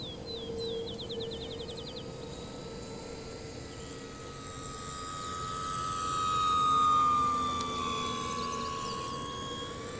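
An E-flite T-28 park-flyer RC model airplane flying at throttle, its electric motor a steady high whine that swells as it passes closer, then eases off, with no talk.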